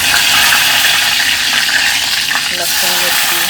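Curry leaves dropped into hot oil already tempered with cumin and asafoetida for dal fry, giving a loud, close, continuous sizzle and spatter; a faint voice murmurs under it toward the end.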